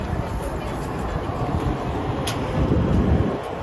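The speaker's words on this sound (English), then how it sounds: "Here is the PATH train." A PATH train in a Manhattan station rumbles steadily with a low, continuous roar and faint high squeals, while a voice talks over it.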